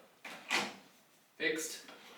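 A secret sliding keyboard tray under a homemade desk is pulled out, giving two short sliding bursts about a second apart, close and moderately loud, with a voice speaking around them.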